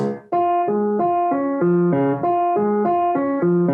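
Piano notes play one after another in a repeating pattern, each note dry and separate with no lingering ring between them.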